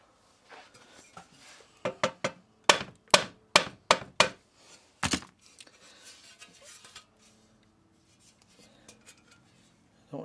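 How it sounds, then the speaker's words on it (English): Sharp metallic mallet blows on a copper-style flange being tapped together for a 5-inch gauge steam locomotive boiler, about nine close, loud strikes in an uneven run, then quieter handling clatter. "So let me get my mallet."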